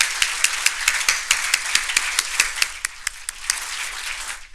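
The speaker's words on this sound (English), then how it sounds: "ask everybody again to give the 2013 inductees a big round of applause." An audience at the 2013 Internet Hall of Fame induction ceremony gives a round of applause: a crisp, close burst of many clapping hands with distinct individual claps, fading slightly toward the end.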